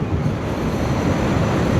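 Ocean surf washing onto a beach right beside the ECR coastal highway between Chennai and Pondicherry, a steady broad roar of breaking waves mixed with wind buffeting the microphone, continuous and fairly loud with no talking.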